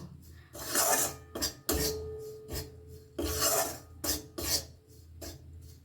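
Sattu roasting with spices in ghee is stirred in a pan, a dry rasping scrape of the spoon repeated in uneven strokes with short pauses between them, close and fairly quiet, with no talking.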